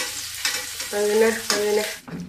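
Fish sizzles in a frying pan for ikan goreng, a brief close hiss broken by a few clattering utensil knocks, with a short murmured word in the middle.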